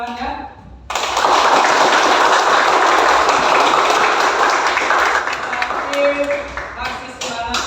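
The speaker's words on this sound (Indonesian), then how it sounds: "boleh Bapak minta tepuk tangan semangatnya?" A class of students claps at the end of a lesson, a sudden burst of many hands that starts after a brief spoken moment and holds steady for several seconds, with a voice briefly heard near the end.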